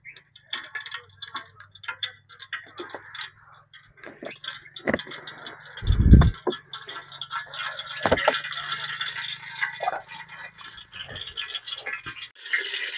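Cooking oil pours into a pan for goat leg soup in an outdoor village kitchen, with soft liquid trickles, scattered clicks and knocks, and one louder thud partway through.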